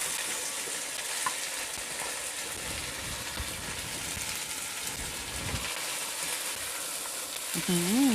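Steady sizzling and frying of frog meat stir-fried with curry paste in a hot pan, with occasional stirring scrapes, moderately quiet and continuous, with a brief voice near the end.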